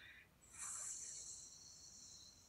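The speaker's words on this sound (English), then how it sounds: "Sometimes I'll tell people to use an S sound like this." A slow breath exhaled through the teeth as a hissing S sound, a steady airy hiss that swells after a brief start and holds for about two seconds, close and fairly soft.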